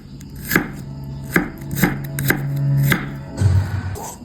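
Okra being sliced thinly on a cutting board, about six distinct knife chops at an uneven pace, close and clear with a low steady hum beneath.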